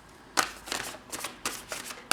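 Tarot cards are shuffled and drawn in a series of crisp, close riffling bursts, about six quick flutters with short pauses between them, quiet and alone.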